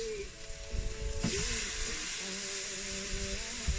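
A steak fries in a hot pan for an evening meal, giving a steady, close sizzling hiss with a few louder spits and pops.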